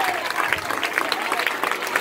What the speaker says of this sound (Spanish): aplaude a Dios